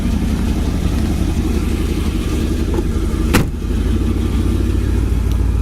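A 1955 Ford Crown Victoria engine runs steadily with a slight carburetor surge, its loud, close rumble holding even apart from a brief sharp click midway.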